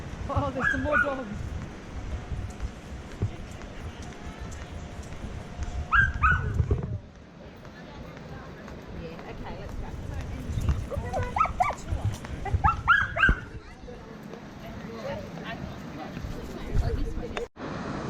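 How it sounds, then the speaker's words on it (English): Several dogs bark repeatedly at a moderate distance outdoors along a wide path, in scattered bursts. A person talks over them, with footsteps and street noise in the background. "there's some more dogs"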